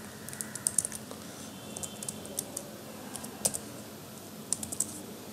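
Keys on a computer keyboard clatter in short bursts of sharp clicks separated by pauses over a quiet room hiss, close and moderately loud.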